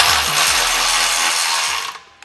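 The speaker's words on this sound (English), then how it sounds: "So we gotta tighten these 2 bolts." A ratchet rattles steadily on the exhaust bolts of an APEXi N1 Evolution Extreme catback on a 2023+ GR Corolla, a dense, close, continuous clicking for about two seconds, then stopping with one small tap.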